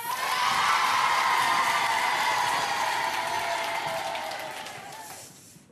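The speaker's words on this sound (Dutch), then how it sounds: "Dan wil ik een extra groot applaus voor de voorstelling Alleen op de Wereld van Maas Theater" Loud audience applause with cheering and whoops after a theatre performance of Alleen op de Wereld by Maas Theater en Dans, swelling quickly, holding, then tapering off near the end.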